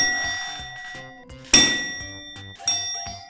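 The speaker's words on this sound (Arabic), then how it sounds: "يعطينا ضربة الجرس" A bell struck twice on a children's quiz show, each strike a bright metallic ding that rings out and decays, with other faint tonal chimes and light clatter between, no talk.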